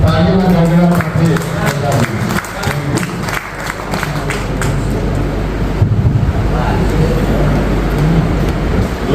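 An audience at a Green Yatra event in Palanpur claps to welcome a speaker, rapid dense applause in the opening seconds under a busy crowd murmur, with traffic-like rumble and talk continuing afterward.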